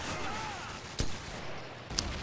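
Rifle fire in the video game Call of Duty 4: Modern Warfare, two sharp, punchy shots about a second apart over a steady low game ambience.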